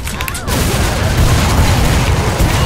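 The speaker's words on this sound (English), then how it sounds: "Throwing the grenades at his ass." Grenade blasts in the Killing Floor 2 shooter come as a dense, loud rumble of booms and gunfire, with a brief quieter start before the din holds steady.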